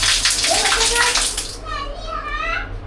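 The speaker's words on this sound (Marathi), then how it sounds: "असं ओपन करायचं आणि पाणी सगळं बाहेर येणार" Water gushes out of a cleaned tank through a newly opened outlet in a close, rushing splash that eases after a moment, followed by a voice speaking over the quieter flow.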